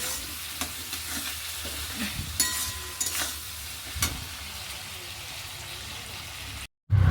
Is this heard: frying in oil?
yes